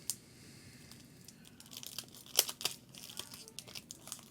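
Foil Topps trading card packs being torn open up close, with quiet crinkling and rustling building to a couple of sharp ripping tears, then further crinkly handling.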